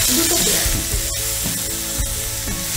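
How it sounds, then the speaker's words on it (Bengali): Two onions fry in a pan over a medium-high flame, giving a loud, continuous sizzle with a few sharper crackles and stirring scrapes, and no voices. "এবার ফ্লেমটাকে মিডিয়াম টু হাই করে ভালো করে এটাকে ফ্রাই করে নিতে হবে।"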